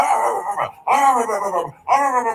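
A person imitates a dog howling, three long wavering vocal howls, loud and close, separated by brief pauses.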